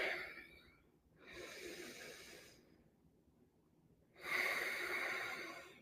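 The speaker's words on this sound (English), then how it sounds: "Let's breathe together for a moment." Slow, deliberate shared breathing in a quiet moment of calm: two long airy breaths, a soft inhale followed after a pause by a stronger, louder exhale, close and alone with no talk.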